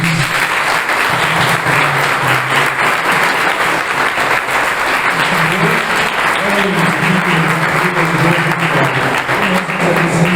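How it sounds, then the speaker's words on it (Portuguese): A church congregation at a Presbyterian anniversary service claps loudly and continuously for a long stretch, a dense steady roar of hands with a voice faintly audible beneath it. "podemos aqui dar uma salva de palmas para o Senhor Jesus"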